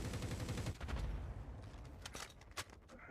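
Gunfire in a competitive shooter video game, rapid bursts of shots and a few sharper cracks heard faintly at low volume, with a busy rumbling game background and no talk over it.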